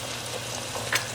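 Brewed saffron is poured onto fried onion sizzling in a pan, giving a brief, dense, steady frying hiss, close and fairly loud, with a quick liquid splash near the end.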